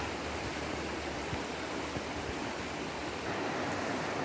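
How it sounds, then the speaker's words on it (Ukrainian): A fast-flowing mountain stream runs beside a path in the Zakarpattia mountains. Its steady, even hiss of rushing water is fairly faint and continuous, with no voices. "швидкий такий струмок."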